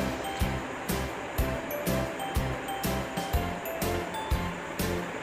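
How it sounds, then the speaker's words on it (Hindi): Chicken pieces fry in a pan in their own released liquid for biryani, a continuous close sizzle broken by regular stirring scrapes and clinks roughly every half second, with no voices. "चिकन को तब तक फ्राई करना है जब तक चिकन अच्छे से फ्राई हो जाए और ब्राउन हो जाए।"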